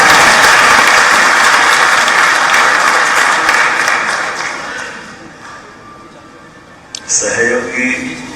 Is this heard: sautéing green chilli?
no